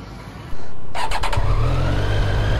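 A nearby Triumph Street Triple 765 motorcycle engine cranks briefly and catches, then settles into a steady, loud idle rumble.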